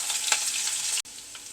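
Mustard seeds spluttering in hot oil for a Kerala beetroot pachadi, a steady close sizzle with faint popping and one abrupt break near the end, with no voices.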